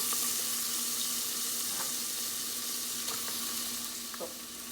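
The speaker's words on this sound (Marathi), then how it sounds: "आतां पियाव मातशें भाज दिया." Onions sizzle steadily in a pan with dry masala spices for a Goan sausage (choris) pulao, a continuous close frying hiss with a few faint stirring scrapes and no talking.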